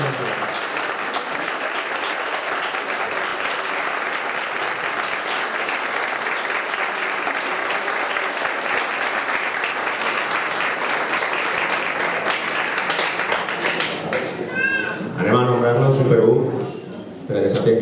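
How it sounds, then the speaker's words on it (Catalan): Sustained audience applause at a 2016 presentation event, many hands clapping evenly and loudly for most of the stretch before it thins out and a voice speaks over the end. "Un aplaudiment, no? Per favor."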